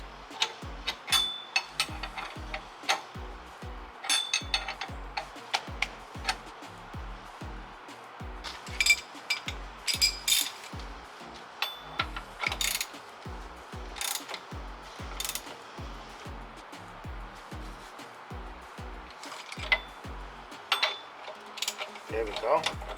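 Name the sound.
tightening a bolt on Nissan 350z brake hub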